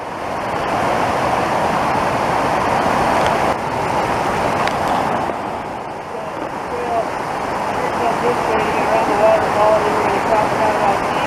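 Rushing water of Cataract Creek in the mountains along the Great Divide Trail, a loud, steady roar of tumbling water heard up close, with people talking over it.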